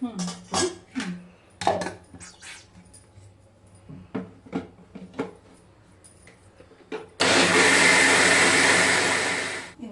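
A kitchen mixer grinder roars into a loud, steady whirr while grinding rice, flattened rice and curd into dosa batter, preceded by scattered clinks and clatter of spoons and steel dishes.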